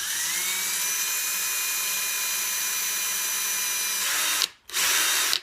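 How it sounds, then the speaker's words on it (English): A power drill whines steadily at high pitch while boring a hole into an Xbox 360 controller, close and loud, briefly stopping and restarting near the end. "Don't just try drilling it straight through."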